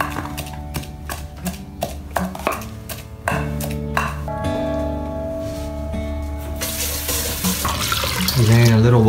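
Running water from a tap splashes in the later seconds while Thai vegetable soup is cooked, following rhythmic kitchen knocks and clatter, with music playing under everything.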